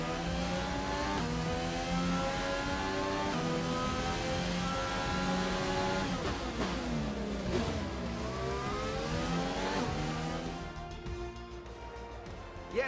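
Race car engines in the F1 2020 racing video game at the Azerbaijan circuit, a continuous high revving whine with rising and falling gear shifts that sweep up and down, loud and steady before easing off at the end.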